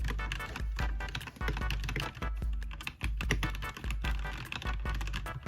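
Rapid, steady typing on a TMKB 60% mechanical keyboard, with close, crisp keystroke clicks coming in dense bursts and brief pauses and no talking.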